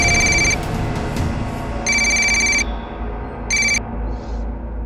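A telephone rings in three bursts, shrill electronic trills separated by pauses, over a low background hum.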